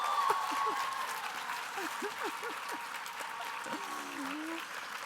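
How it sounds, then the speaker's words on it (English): Sustained applause from a luncheon audience greeting a keynote speaker, a steady broad clapping that holds evenly across the whole stretch while a voice speaks over it. "your claps were really loud"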